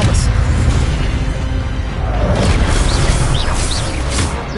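Spell effect from a duel in the video game Hogwarts Legacy, a dense, booming magical blast that roars steadily throughout, with bright whooshing flickers layered over a loud low rumble.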